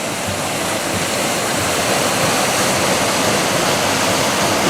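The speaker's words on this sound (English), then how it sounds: "we are at Pigpen Falls on Lick Log Creek" Pigpen Falls on Lick Log Creek pours in a steady, loud, dense rush of falling water that fills the whole scene without a break, with no voices.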